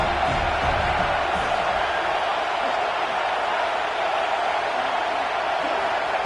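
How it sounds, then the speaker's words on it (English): A football stadium crowd at a Florida vs Alabama game roars on third down, a constant loud wall of cheering that holds steady throughout. "Third down and the crowd really getting into it."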